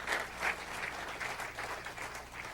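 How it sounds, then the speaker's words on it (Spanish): Church congregation applauding to the glory of God, a faint, distant patter of clapping with soft rhythmic swells, fairly brief and low in level. "Dale un aplauso a la gloria de Dios."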